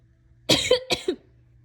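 A girl coughs twice in quick succession, close and fairly loud, short harsh bursts in a dusty, earthquake-damaged setting, with no other voices.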